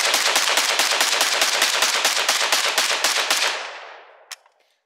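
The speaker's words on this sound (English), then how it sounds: "We do a little AK stuff." An AK rifle fired rapidly in a magazine dump outdoors: a long, loud, evenly spaced string of close gunshots lasting about three and a half seconds, then a fading echo and one faint clink.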